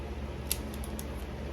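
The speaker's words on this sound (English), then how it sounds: "me and my trusty scissors" Faint, quiet scissors clicks and snips sound a few times in quick irregular succession, small sharp ticks against a soft background hum.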